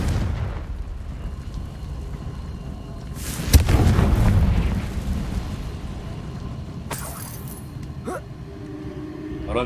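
A Confringo fire spell from the video game Hogwarts Legacy erupts in a sharp, loud blast followed by a rumbling roar that fades, with a second sharper crack later over a low background hum.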